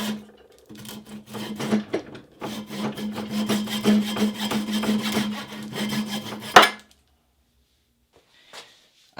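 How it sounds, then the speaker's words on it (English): A hand saw cuts off the protruding wooden wedge at the top of a newly hung axe handle: close, rhythmic rasping strokes for about six seconds, ending abruptly, followed by near silence and a faint knock. "So I'm just going to saw it off right now."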